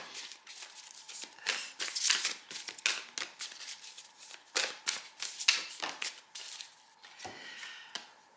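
Tarot cards being shuffled by hand, with a run of crisp, riffling bursts and soft slaps repeating unevenly over several seconds, close and fairly quiet.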